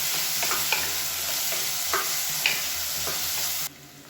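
Onion, drumstick and potato sauté in hot oil, a steady broadband sizzle with several scraping stirs of a spoon against the pan; the frying noise cuts off abruptly near the end.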